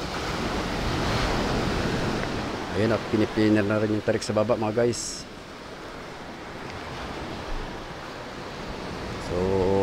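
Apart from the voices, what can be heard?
high tide sea waves by the boat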